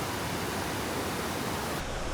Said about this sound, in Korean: 저기 폭포. 보여?